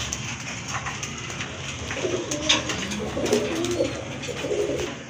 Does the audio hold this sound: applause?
no